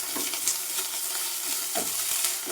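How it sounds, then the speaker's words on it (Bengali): Garlic and ginger paste frying in oil gives a steady close sizzle, with soft scraping strokes of a spoon stirring it through the pan. "রসুনটা আর আদাটা একটু তেলের মধ্যে নেড়ে নেবো।"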